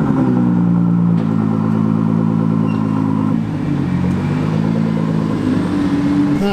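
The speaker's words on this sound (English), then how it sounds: "It's ridiculously loud. It's like it's got two screamer pipes out the back." A costly sports car fitted with a very loud twin 'screamer pipe' exhaust revs hard at close range, its harsh rasping drone rising and falling continuously with no voices over it.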